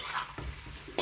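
Vermicelli being stirred in a pan in a home kitchen, a brief scraping clatter of utensil against cookware with a sharper knock near the end, close and fairly quiet, no talking.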